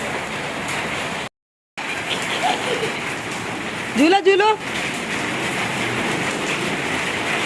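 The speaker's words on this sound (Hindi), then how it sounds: "बहुत तेज बारिश हो रही है" Heavy rain pours steadily over a playground with a slide after summer heat, a continuous loud hiss that cuts out briefly, while a voice speaks for a moment midway.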